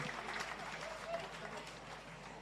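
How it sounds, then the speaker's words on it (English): Applause from an audience at a Jamaica Civil Service long service awards ceremony, a steady, fairly faint patter of clapping lasting the whole short moment, with some murmur underneath. "Please give him a round of applause"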